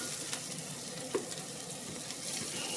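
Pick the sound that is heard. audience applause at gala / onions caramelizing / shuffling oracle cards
onions caramelizing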